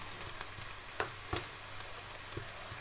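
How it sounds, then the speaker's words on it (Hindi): Salt and red chili powder sizzle and fry in a pan for a capsicum and potato dish, a steady close hiss broken by a few sharp scraping stirs. "दस से 15 सेकंड में आपने नमक और लाल मिर्च जो है वो हमारी भुन जाएगी"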